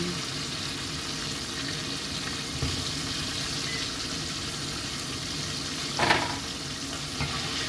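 Chicken wings frying in hot oil, a steady dense sizzle and crackle that holds throughout, with one brief louder burst of spatter near the end.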